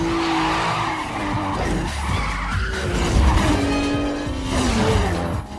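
Race cars in a street race screech their tires in long, loud skids, with engines roaring close by and whooshing passes, alone without speech.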